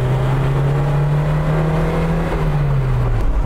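The engine of a VAZ-2101 Zhiguli drones loudly and steadily as the gas pedal is worked, its pitch sagging slightly near the end, heard from close by with no talk.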